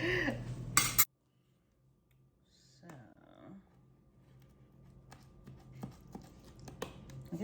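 A utensil cuts into a cheesy chicken tortilla casserole in a baking dish, soft scattered clinks and scrapes against the dish after a brief spoken moment at the start.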